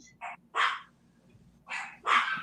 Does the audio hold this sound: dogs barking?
yes